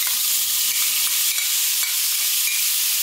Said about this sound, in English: My pot is warm, so in goes the shrimp.